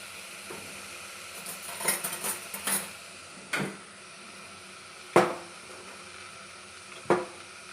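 Homemade ghee spooned into a pot, heard as a few scattered metallic clinks and scrapes of spoon against pot, close and fairly quiet, with brief gaps between them.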